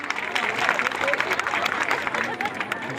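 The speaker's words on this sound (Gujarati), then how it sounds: "એનો તાળીઓથી વધાવજો ભાઈ." Village crowd clapping steadily in welcome of the Momo Bhono team during a visit to Sardapura Chikna, a dense continuous patter of hands with a murmur of voices mixed in.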